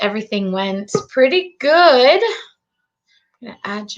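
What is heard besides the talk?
No distinct noise like a dog, phone or traffic.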